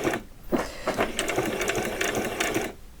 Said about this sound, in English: When you get to the end, you just want to do a few back stitches